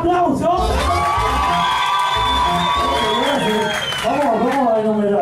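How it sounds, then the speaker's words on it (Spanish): Aboard a yacht, a lively group cheers and whoops with shouts and clapping mixed in, loud and close, with voices calling out over the noise. "Atención, familia, el aplauso."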